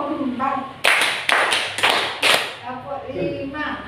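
A group claps a rhythmic pattern of four sharp, loud, evenly spaced claps, with a voice talking just before and after.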